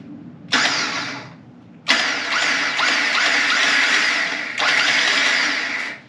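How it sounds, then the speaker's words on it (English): An electric winch on a Jeep Wrangler JK whirs in loud, close motor runs: a short burst, a pause, then a long continuous pull that briefly changes pitch before stopping. "There we go, we got a working winch."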